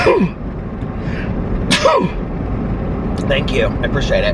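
A person sneezes sharply near the start, with a second burst shortly after, over a constant car-interior rumble; the speaker then talks briefly.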